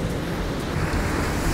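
Small waves lapping in Milford Sound, a New Zealand fjord, with a steady broadband wash of water and some wind noise on the microphone, fairly loud and continuous throughout, no voices.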